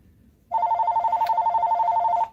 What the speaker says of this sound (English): After the phone stops ringing